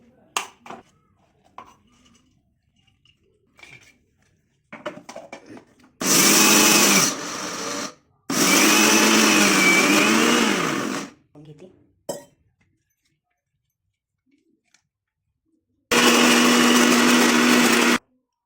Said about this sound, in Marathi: आता मी याला मिक्सरमधून काढून घेत आहे